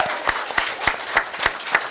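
Staff and guests at a school district board meeting applaud an elementary school award, a steady wash of clapping with sharper claps standing out at a regular rhythm, close and sustained throughout.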